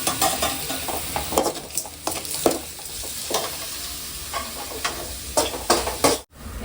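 Onions sautéing with tomato and salt in a pan, continuous close sizzling broken by repeated spatula stirs and scrapes against the metal, no voices.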